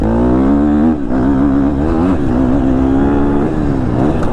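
A 2022 KTM 250 SXF four-stroke dirt bike revs hard and steadily up close on a test ride, its buzzing engine note rising and dipping through gear changes without a break.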